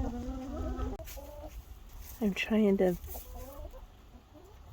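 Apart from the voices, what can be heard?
chicken clucking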